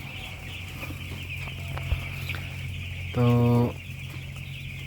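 Hens clucking inside a caged-rack layer house alongside a steady ventilation hum, with a short loud mechanical burst partway through and a brief word spoken near the start.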